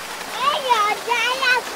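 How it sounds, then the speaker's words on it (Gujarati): Well water gushing fast into a cotton field, a continuous rushing splash running beneath a person talking nearby. "જો કેવું ફાસ્ટ ફાસ્ટ પાણી આવે"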